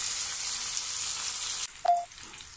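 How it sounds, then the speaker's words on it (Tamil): Onions and tomatoes sautéing in a pan for a village-style kofta curry, a steady close hiss of frying that cuts off abruptly partway, followed by a brief clink. "இந்த வெங்காயம் நல்லா வதங்கிட்டு இப்போ தக்காளியும் சேர்த்துக்கோ. சேர்த்து கொஞ்ச நேரம் நல்லா வதக்கலாம்."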